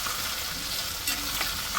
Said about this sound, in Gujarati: અને મરચા જુઓ કેવા તળાઈને ફૂલી ગયા એકદમ.